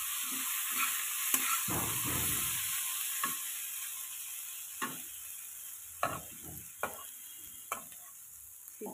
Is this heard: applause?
no